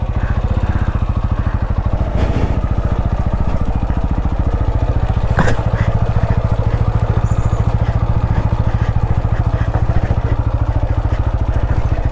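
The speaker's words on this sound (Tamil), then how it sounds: "பாருங்க எப்படி இறக்கிட்டு இருக்கேன்னு வண்டியை" A TVS Apache RTR-200 motorcycle descends a rough off-road track, its engine chugging steadily at low revs for the whole stretch, loud and close, with occasional clunks from the bike.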